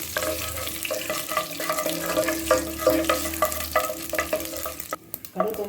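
Steady crackling and popping of mustard seeds spluttering in hot oil while tempering for sambar, with scattered sharp pops over a continuous sizzle.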